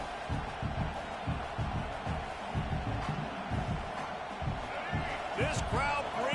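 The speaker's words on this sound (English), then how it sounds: "This crowd bringing the energy and noise early." A roaring college football stadium crowd at UCLA fills the background with steady noise and cheers, while repeated thuds and a commentator's voice sit on top.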